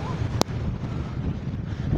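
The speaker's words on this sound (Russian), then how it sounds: "Шторм, да, море штормовое" Stormy sea waves and gusting wind on a beach in Nha Trang, a continuous rough roar with wind buffeting the microphone and a brief sharp click near the start.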